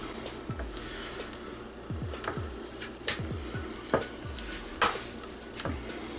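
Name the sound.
mixing white colorant into cold process soap batter by hand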